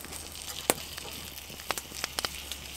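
Faint crackling and popping of food frying in oil, with a few sharp spits scattered over a low steady hiss.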